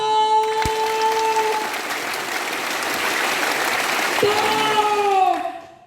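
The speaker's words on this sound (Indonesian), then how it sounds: "Tepuk tangannya itu terakhir semakin besar langsung berhenti." Audience applause at a training session swells steadily louder across several seconds, then cuts off abruptly on cue, with a shout and whistle-like tones standing out over the clapping.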